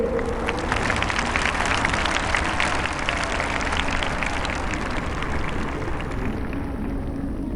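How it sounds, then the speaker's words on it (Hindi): An audience at an Independence Day speech applauds for the daughters who won medals, a dense, steady wash of clapping from a large crowd that holds evenly throughout without talk. "गर्व करें और ताली बजाइए उन बेटियों के लिए।"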